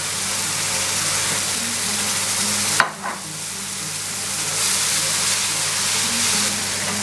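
Tomatoes hit a hot pan with a loud, steady sizzle and frying crackle, broken by a sharp clatter and brief dip as they're stirred, then the sizzle builds again, no voices.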